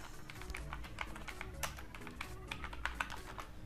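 Steady, rapid keystrokes on a computer keyboard while entering text with a type tool in Adobe InDesign, close and moderately loud over a low background hum, with no talking.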